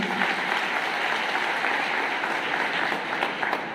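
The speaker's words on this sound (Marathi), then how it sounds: "त्यांच्यासाठी एकदा जोरदार टाळ्या झाल्या" A crowd gives loud, sustained applause at a procession welcoming home a returning soldier, dense clapping filling the scene without a break.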